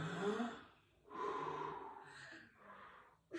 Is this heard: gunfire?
no